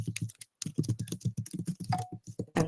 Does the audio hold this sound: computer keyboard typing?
yes